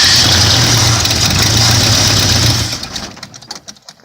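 A 1977 Ford Mustang engine being coaxed to start catches and rumbles loudly up close for a couple of seconds, then sputters and dies away into quiet, irregular mechanical knocks.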